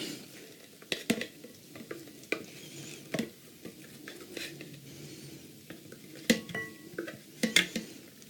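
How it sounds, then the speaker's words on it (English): A spoon scrapes and thumps through a thick mash of beans with chopped vegetables and spices for vegan burgers, giving quiet, irregular stirring strokes and occasional sharper knocks against the bowl. "now I'm going to go ahead and add all my vegetables and spices into the mashed beans"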